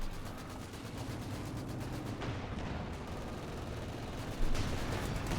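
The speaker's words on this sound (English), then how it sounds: "Vickers opening up the Grenadiers" Vickers machine gun fire in the video game Company of Heroes 2, a dense, continuous rattle of automatic fire blended with other battle gunfire, steady and fairly loud throughout, with a sharper burst near the end; no speech.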